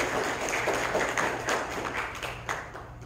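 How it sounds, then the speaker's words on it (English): A church congregation claps together in a brief, steady patter of applause that fades slightly toward the end, with no voices over it. "So let's give her a round of applause."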